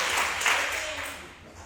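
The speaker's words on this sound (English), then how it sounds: "Clap for Jesus." A church congregation claps during a sermon, a brief burst of applause that peaks then fades over under two seconds, with a voice speaking faintly over it.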